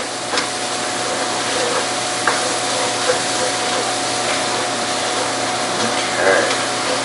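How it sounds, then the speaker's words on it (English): Wine bubbles and hisses steadily in a hot pan for Thanksgiving stuffing while a spoon scrapes stuck bits off the bottom, giving a continuous close sizzle broken by a few light scraping ticks. "while that wine's sort of bubbling up, you want to be running across the pan with your spoon, just sort of scraping everything that's stuck to the bottom of it"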